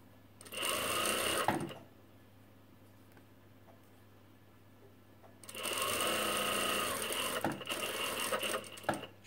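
A sewing machine stitches a hem on an off-centre twist top in two quick bursts of rapid mechanical whirring, a short run, a pause with a quiet hum, then a longer run, close and clear with no talk.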